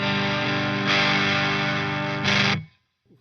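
Electric guitar through a Pack Rat distortion pedal on its LA setting, thick saturated chords sustained loudly, with two heavier strummed accents before an abrupt cut to silence.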